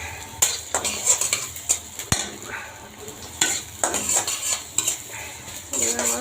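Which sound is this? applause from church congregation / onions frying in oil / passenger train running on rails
onions frying in oil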